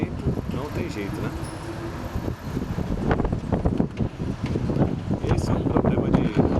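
A strong gust of wind blows at Aparecida beach in Santos, a loud, steady rush of buffeting across the microphone that swells partway through, with a voice speaking underneath and traffic-like noise mixed in.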